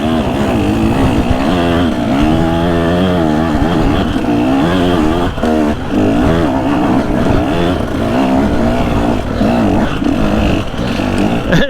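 A KTM 150 SX two-stroke motocross bike being ridden, its engine loud and close throughout, rising and falling through the gears with steady revving and brief dips as the throttle shifts.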